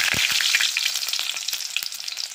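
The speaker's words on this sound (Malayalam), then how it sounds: "ഇനിയും കടുക് നന്നായിട്ട് പൊട്ടട്ടെ" Mustard seeds splutter and pop in hot oil while cooking a beetroot thoran, with a close, steady sizzle scattered with sharp crackles and no voices.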